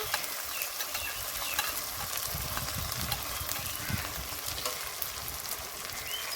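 Spice paste of ground ginger, garlic, cumin and dried chilli fries and is stirred in a pan for a village-style chicken curry, a steady close sizzle with scraping strokes throughout and no talk.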